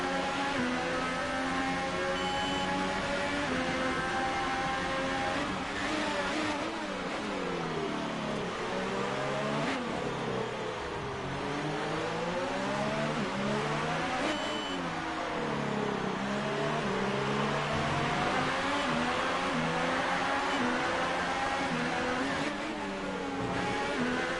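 F1 race car engine in the F1 2018 racing game at the Mexican Grand Prix, a loud high-revving whine sweeping up and down through repeated gear shifts and throttle changes, continuous and close.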